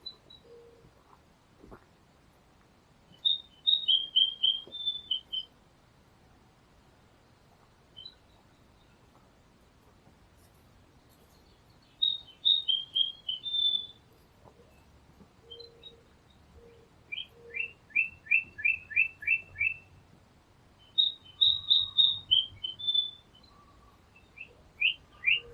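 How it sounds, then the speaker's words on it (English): Birds chirp in a quiet Vermont forest, bright high trills and rapid twittering phrases coming in several bursts separated by calm pauses, moderately distant. "Birds are chirping away."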